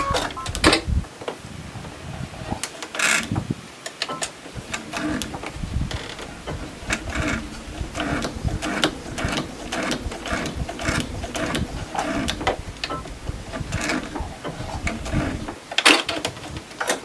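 Sewing machine stitching a quarter-inch seam on a quilt block, a steady rapid mechanical clatter of the needle running in bursts with short pauses, close and fairly quiet, no talking.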